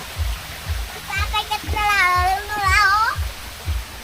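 A waterfall at a Thai garden park with a bamboo cafe gives a steady, moderate rushing wash, partly covered by the voices of an adult and a child and a few soft rhythmic low thumps.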